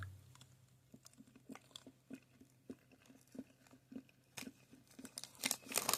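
Soft, wet chewing of old Topps baseball-card bubble gum, close to the mouth, with irregular smacking and clicking bites that grow busier and louder toward the end.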